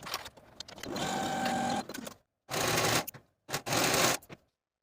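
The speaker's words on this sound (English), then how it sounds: "Sew your shoulder seams at a 3/8 inch seam allowance and finish your seams." A sewing machine stitches the shoulder seams of a colorblock knit dress at a 3/8 inch seam allowance, running in three bursts: one long steady whir, then two shorter runs separated by brief silences, close and alone.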